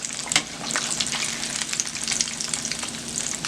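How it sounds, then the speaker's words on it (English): Onions and flour sizzle and crackle steadily in hot oil, a dense continuous frying hiss with small pops throughout and no talking. "start frying some onions and flour to make this sauce"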